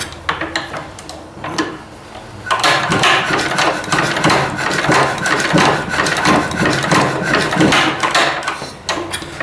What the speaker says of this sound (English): This engine's weird when you're cranking it hard like that. It never seemed to start.